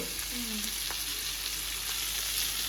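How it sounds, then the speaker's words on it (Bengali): Snake gourd fries in a pan as a constant hissing sizzle with faint stirring scrapes, steady and close throughout, no clear speech. "আগে চিচিঙ্গাটা ভেজে নিই"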